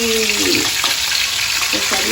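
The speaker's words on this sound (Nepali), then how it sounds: "यसरी मसला भुट्नुपर्छ।" A ground onion, ginger and garlic masala fries in oil in a karahi wok, producing a loud, close, unbroken sizzle with stirring scrapes and brief faint voice sounds underneath.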